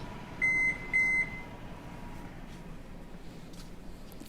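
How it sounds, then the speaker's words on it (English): A kitchen oven gives two short, clear electronic beeps in quick succession as it is switched off, then only quiet room tone follows. "I'm gonna turn my oven off"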